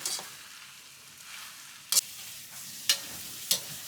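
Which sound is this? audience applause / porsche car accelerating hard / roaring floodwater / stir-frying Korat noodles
stir-frying Korat noodles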